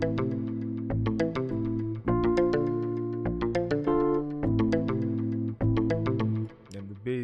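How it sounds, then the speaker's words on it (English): Afrobeats melody played over a looping chord progression in FL Studio, bright plucked synth notes in a steady rhythmic pattern above sustained low chords, continuous and fairly loud with no voice. "So with the melody, it sounds like this."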